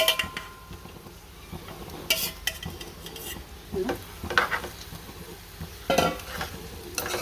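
Chicken and tomatoes cook in a pan with a soft sizzle underneath while a spoon stirs and scrapes against the metal in irregular knocks, close and without talking.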